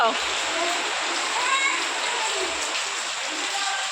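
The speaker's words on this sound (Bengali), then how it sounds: "এদিকে দেখো বৃষ্টি অনর্গল হয়ে যাচ্ছে।" Heavy rain pours steadily beside a mud-walled house, with water splashing and streaming throughout, a continuous broadband wash with no pauses.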